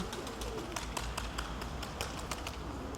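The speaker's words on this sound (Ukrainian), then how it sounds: "Де у нас голуби? О, ось вони." Soft pigeon coos and light tapping over a steady background hum, with scattered bird calls throughout.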